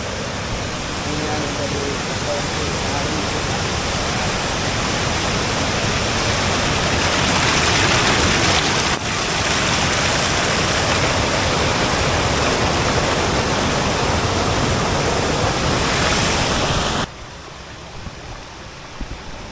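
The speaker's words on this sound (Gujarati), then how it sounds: "આ છે અહીંયાનું ખળખળતું વહેતું પાણી।" Continuous rushing water from a flowing stream, loud and close, a steady broadband roar that drops off near the end.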